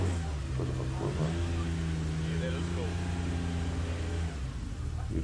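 A small Alfa Romeo race car at the George Begg festival at Teretonga Park Raceway in Invercargill, its engine revving at a steady mid-pitched drone for several seconds, heard beneath someone talking.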